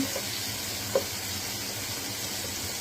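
Chili powder, salt, turmeric and ginger sizzle softly in a pan while being fried for a Bombay duck (lote fish) curry, a faint, even hiss with one small pop and no talk.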